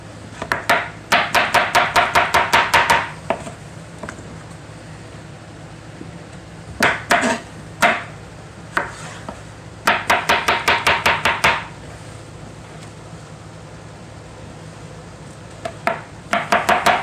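Knife chopping zucchini on a cutting board, three zucchinis and two summer squash cut into larger pieces: loud, rapid bursts of sharp taps in quick runs, separated by quiet pauses, with no talking.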